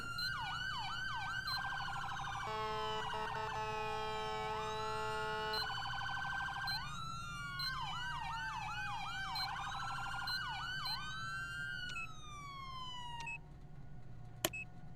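Dual-tone police siren on a GTA V FiveM roleplay patrol car, cycling through yelps, a steady two-pitch horn-like tone and fast warbles, loud and continuous, ending with a sharp click.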